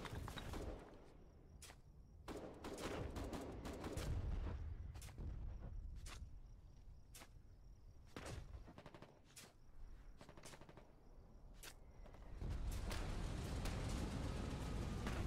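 Artillery and gunfire in the Foxhole war game: repeated sharp gunshots and short bursts crack at irregular intervals over a rumbling battlefield bed, with a heavier low roar building toward the end.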